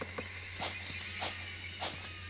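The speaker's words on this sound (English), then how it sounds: "go out of my way to kill every last one of these crickets" Crickets from the Wii game Escape From Bug Island give several short, scattered chirps over a steady electronic hum, moderately faint and irregularly spaced.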